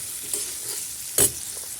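Potatoes fry in a pan with a constant close sizzle, broken by one brief scraping stir near the end; no one speaks.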